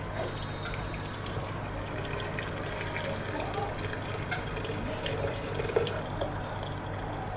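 Warm water pours steadily over fava beans in a pot, a continuous close gushing and splashing that runs without a break.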